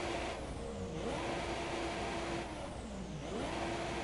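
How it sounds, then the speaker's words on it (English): An F1 car in the F1 2017 racing game, stuck in neutral after hitting the wall at Bahrain, revs its engine in steady rising and falling sweeps, loud and continuous with no talk over it. "You can hear him trying to put pressure on the throttle"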